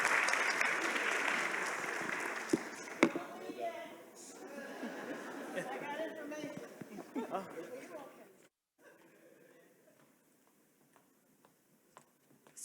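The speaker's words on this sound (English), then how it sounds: "So let's give this panel another round of applause." A large conference audience at an opening plenary session applauds a panel, a dense wash of clapping mixed with chuckles and chatter that fades out after about eight seconds, followed by near quiet.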